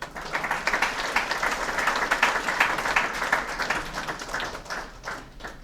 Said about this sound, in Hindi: नीरज जी के लिए जोरदार तालियां।